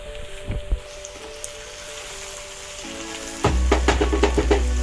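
Cauliflower (gobhi) fries in a covered pan with a soft, steady crackle, then a sudden, much louder sizzle takes over near the end, dense with popping spatters.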